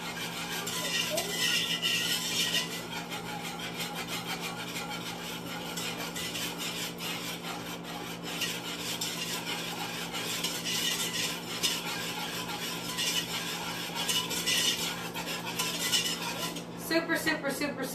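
Continuous scraping and clinking of a utensil stirring seasoning into mac and cheese in a pot, a busy close rhythm of metal rubbing against the pot with a few brighter knocks.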